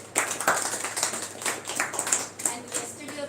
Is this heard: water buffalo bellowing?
no